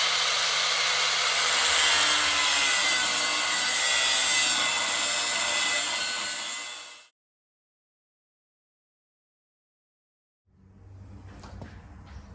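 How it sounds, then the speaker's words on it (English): An angle grinder screams loudly against steel, cutting the weld off a broken axle, in one sustained harsh run that stops abruptly, then silence before faint workshop noise returns. "I started grinding on this to cut it off"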